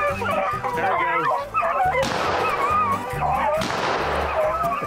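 Hunting dogs bay and bark continuously while chasing a rabbit outdoors, several overlapping voices close by and loud.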